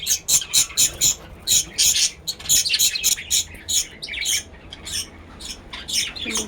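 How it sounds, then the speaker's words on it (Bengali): Near, insistent squawks and chirps from a mother bird close to her two newly hatched chicks, coming in rapid repeated bursts with no one talking. "মা পাখি অনেক ডাকাডাকি করতেছে"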